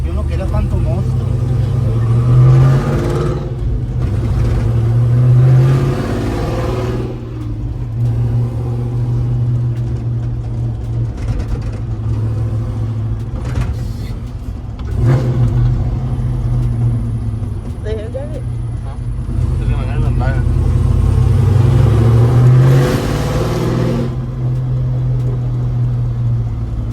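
A 6-speed LS-swapped Ford F100 truck engine revs at half throttle in a steady low rumble with several rising pulls, close by and loud, while people talk over it.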